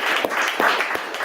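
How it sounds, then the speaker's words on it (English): Brief applause from an audience at a live Bitcoin club meetup, a short burst of clapping at moderate loudness. "let's give him a round of applause."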